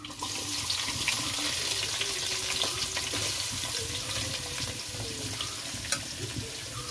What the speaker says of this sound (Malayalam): ഇഞ്ചി അങ്ങ് അരിഞ്ഞ് വെച്ച് ഇതും ഇട്ട് കൊടുക്കാം എന്നിട്ടൊന്ന് വഴറ്റാം